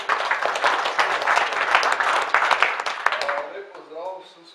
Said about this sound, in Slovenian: lep aplavz